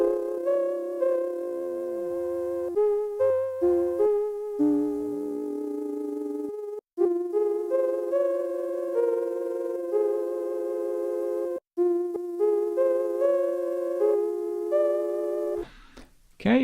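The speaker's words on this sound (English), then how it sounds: "we're going to leave it on quite a slow sine wave going left to right" A slow sine-wave LFO in the Reflection synth plugin pans sustained synthesized tones from left to right, with the steady tones stepping through held pitches in short phrases. The sound is clean and continuous, broken by brief gaps, and no one speaks over it.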